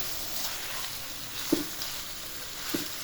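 Chicken keema and onions frying over high heat in oil and ghee in a karahi, a steady close hiss of sizzling with two brief clinks of a utensil.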